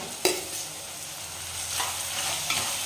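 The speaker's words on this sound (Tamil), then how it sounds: "வெங்காயம் பச்சை மிளகாய் நல்லா வதக்கிக்கலாங்க" Onions and green chilies sautéing in a hot pan give a steady, close sizzle, with a sharp clatter of stirring near the start and softer scrapes later.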